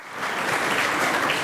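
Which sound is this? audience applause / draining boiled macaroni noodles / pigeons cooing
audience applause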